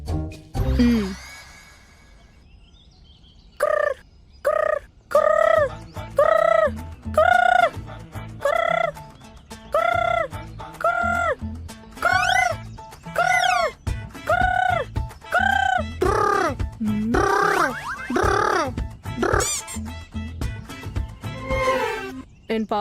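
A human voice imitates bird calls to summon pigeons, repeating a string of gobbling, warbling bursts in a steady rhythm that grows busier and more ragged toward the end.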